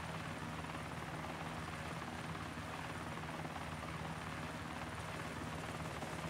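A helicopter flies and fires in the video game DayZ Lingor, a continuous rotor drone and engine hum that stays steady and fairly distant throughout, with no talk.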